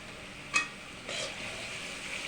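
Beef with coriander and cumin powder is sautéed in a pan for an Assamese beef and bottle gourd dish: a soft scrape of stirring, then a faint, steady sizzle.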